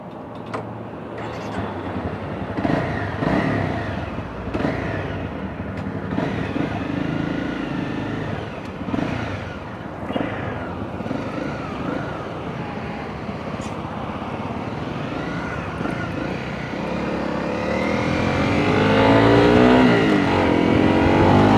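A Honda CRF 250 Rally motorcycle engine runs steadily while riding on a road, with rough engine drone and wind noise that builds toward the end; a voice talks intermittently over the ride.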